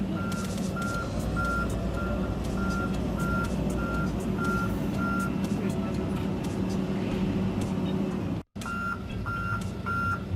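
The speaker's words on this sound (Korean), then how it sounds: "후진 시 이렇게 알람이 울려서 정상입니다." An excavator's reversing alarm beeps in a steady repeating rhythm over a loud, continuous diesel engine rumble, briefly cutting out before resuming, during a basic safety check.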